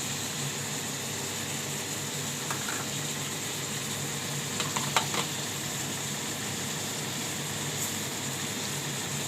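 Eggs frying in a home kitchen for a Bengali potato and egg curry, giving a steady close sizzle with a faint engine-like hum underneath and a few brief clinks near the middle.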